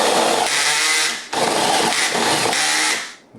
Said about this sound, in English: we're going to drill our holes